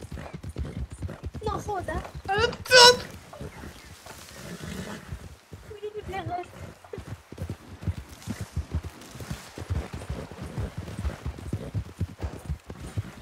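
Hooves of a black trotter horse in a video game clop along under steady conversation, with a brief loud neigh-like cry near the start and people talking throughout.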